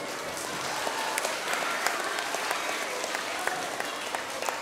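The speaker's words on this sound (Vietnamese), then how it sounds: "Nếu có con mà làm được như thế thì cho một tràng vỗ tay thật lớn nào." Children applauding at a Buddhist temple gathering on traffic safety, a steady broadband clatter of many small hands clapping together, fairly loud and sustained throughout with a crowd murmur beneath.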